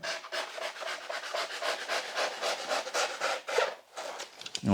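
Polyurethane spray foam insulation being cut by hand, a steady scratchy rubbing and sawing rasp repeating in quick strokes, close and fairly loud, with a brief knock at the very end.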